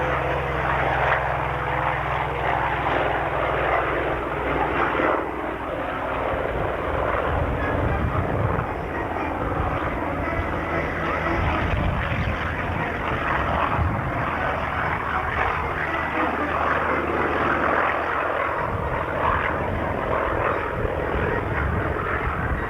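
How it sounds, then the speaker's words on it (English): An F4U Corsair propeller fighter flies at the 1994 Dayton Air Show, its piston engine and propeller making a loud, continuous roaring drone that rises and falls slightly as it passes. "And then the Corsair."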